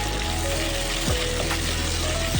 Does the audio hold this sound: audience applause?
no